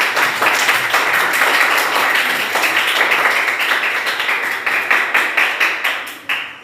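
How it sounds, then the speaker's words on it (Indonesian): A small group of students claps together in a classroom after a group presentation, steady at first and then thinning into a few scattered claps before stopping. "Silakan tepuk tangan dulu."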